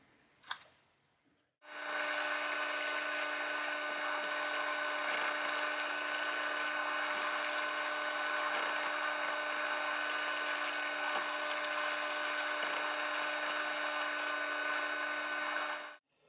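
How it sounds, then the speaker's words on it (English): A drill bores pilot holes in sheath material for a small cleaver: a high, steady whine that starts after a short pause and runs unbroken for about fourteen seconds before cutting off, close and with no talk. "Go ahead and just do a pilot hole for that. Drill them out, and then cut out the excess,"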